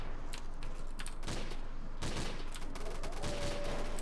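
Gunfire in the zombie-survival mode of Gmod plays as a rapid, fairly quiet fusillade of shots, with a couple of sharper bursts standing out from a steady crackle.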